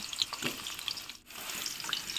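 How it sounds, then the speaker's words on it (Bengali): Cut potatoes fry in hot oil, making a soft, even sizzle that briefly dips before resuming. "এবার ওই তেলেই কেটে রাখা আলুগুলো দিয়ে ভেজে নেব।"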